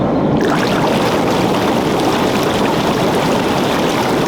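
Bubbling jacuzzi water churns in a steady, loud broadband rush that continues unbroken from start to finish, with no voices present.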